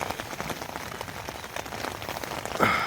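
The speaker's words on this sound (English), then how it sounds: "The rain has not stopped all night." Steady rain drums on a tent pitched in the woods of Fan Fawr in the hills at dawn after a night of heavy rain and wind: a dense, close patter of drops, moderately loud, with no voices.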